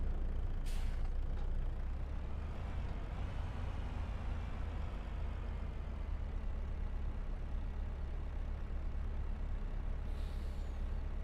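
A truck in Farming Simulator 25 rumbles steadily at low volume, its engine droning throughout, with a sharp air-brake hiss near the start and another faint hiss toward the end.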